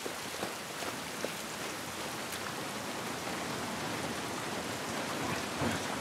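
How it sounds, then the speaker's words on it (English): Steady rain falls in The Last of Us Part 1, a soft, even hiss of drops with a few faint taps, quiet and continuous with no voices. "This rain ain't gonna do us any good."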